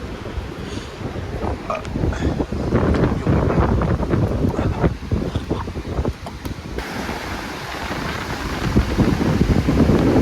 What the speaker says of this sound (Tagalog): Pero sobrang lakas ng hangin talaga.